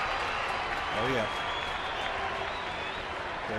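A ballpark crowd at a Rockies–Giants baseball game applauds and cheers for pitcher Vogelsong, a steady roar of clapping throughout, with a commentator's voice briefly audible.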